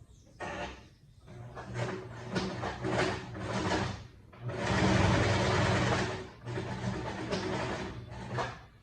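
A sewing machine stitches a short 2 cm seam in quick bursts of mechanical whirring, with brief pauses between runs and one longer continuous stretch, close and clear with no talking.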